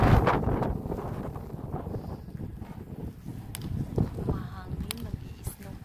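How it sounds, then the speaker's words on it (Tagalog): Gusty wind buffets the microphone in snowy Niseko, Japan, a low rumbling roar that rises and falls unevenly, with faint voices under it. "Mahangin, nag-i-snow pa."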